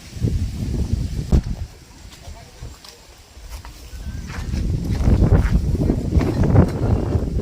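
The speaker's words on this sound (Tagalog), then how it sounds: "Lakas ng hangin, nakakatakot to." Strong wind roars and buffets the microphone at a campsite in a continuous low rumble that swells louder toward the end.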